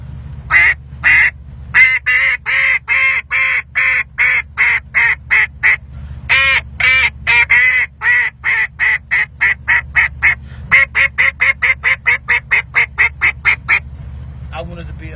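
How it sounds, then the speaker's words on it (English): A double reed duck call blown in rapid series of loud, raspy quacks, some drawn out, others short and clipped, close by with no talking. "Now this is my double reed, right?"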